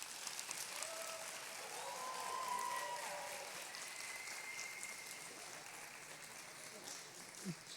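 A church congregation claps together at a preacher's call during a service, steady applause swelling in the middle and then continuing at a moderate, somewhat distant level.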